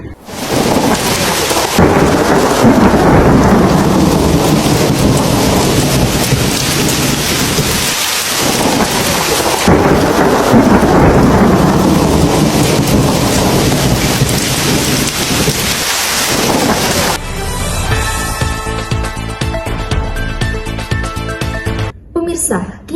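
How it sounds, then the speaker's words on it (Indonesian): Heavy, continuous rain pours down with rolling thunder and gusting wind during an extreme flood-bringing storm, loud and steady throughout, then giving way near the end to a brief musical passage. "Hujan deras yang mengguyur tanpa henti, disertai dengan angin kencang dan kilatan petir menandai datangnya kondisi ekstrim."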